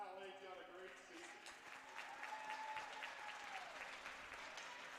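An arena crowd at a women's college hockey game applauds steadily for the NCHA Slats Cup finalists from St. Norbert, faint and distant beneath a public-address voice.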